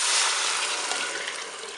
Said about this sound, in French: Je vais maintenant ajouter mon bouillon.